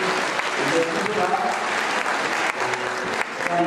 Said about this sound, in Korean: 우리 박수 신랑에게 보내겠습니다